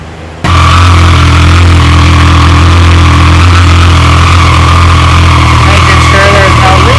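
A 2020 Triumph Street Triple RS motorcycle engine starts and settles into a loud, steady idle while warming up after an oil change, heard up close and continuously with no talk.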